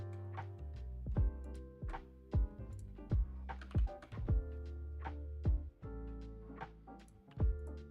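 Keys on a computer keyboard are typed in quick, uneven bursts of sharp, close clacks and thumps, with a few heavier keystrokes standing out and short pauses between runs.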